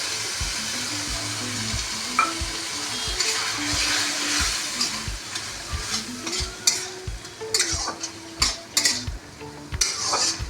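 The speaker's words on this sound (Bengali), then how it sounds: "এবার এটাকে একটু ভালো করে নাড়তে হবে।" Poppy seed paste being stirred in a pan, with a soft sizzle under irregular metallic scrapes and knocks of a utensil against the pan, close and clear, plus a low background hum.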